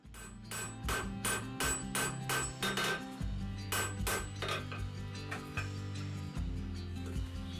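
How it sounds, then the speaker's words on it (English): A cross peen hammer strikes hot steel on an anvil to draw out a drawknife blade forged from a railroad spike: a series of ringing metallic blows, quick bursts followed by sparser hits, close and clear. "I'm going to be using the cross peen to draw out the blade to its final width."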